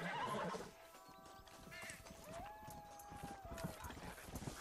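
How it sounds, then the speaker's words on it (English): A horse in the Red Dead Redemption video game whinnies, with a rising tonal call, while hooves clip-clop and game ambience plays under faint talk. "No, I don't want to ride the horse."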